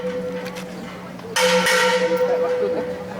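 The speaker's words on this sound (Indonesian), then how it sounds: "Dia memukul bel tidak minta izin." A school bell at an Indonesian Islamic boarding school is struck once with a sudden loud metallic clang that rings on and slowly decays, over a steady low hum.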